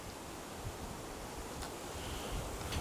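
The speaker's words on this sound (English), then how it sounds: "it is a strong wind warning" Strong wind during a wind warning, a broad steady roar buffeting outdoors without pause, fairly loud and continuous, with no voices.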